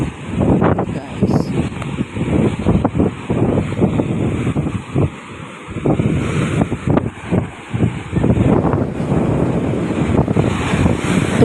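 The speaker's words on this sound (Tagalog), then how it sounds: "Ang lakas ng hangin. Tsaka yung dagat. Malaki na yung alon." Strong gusting wind buffets the microphone beside a seawall while big sea waves surge and crash nearby, a loud continuous roar with swelling bursts of surf and no clear talk.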